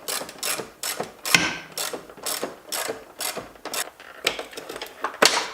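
A socket ratchet clicks in repeated short bursts, loud and close, while engine wiring is worked on during a budget turbo LS engine build. The bursts come in an uneven rhythm with brief pauses between them.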